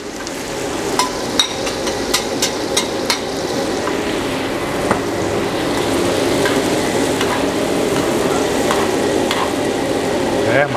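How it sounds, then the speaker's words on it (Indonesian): Shallots hit hot oil for a corned beef fritter recipe, a loud, close sizzle with sharp spoon taps against the pan early on, the frying growing fuller and steadier afterward. "Minyak kita udah cukup panas, kita masukin bawang merah dulu ya."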